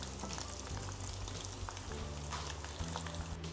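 Potato slices fry steadily in oil in a small pot, a dense, even sizzle close up, with soft stirring scrapes as they are turned, no voices over it.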